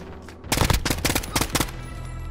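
Bursts of automatic gunfire in Call of Duty Warzone, a rapid string of loud close shots lasting about a second, then a quieter tail.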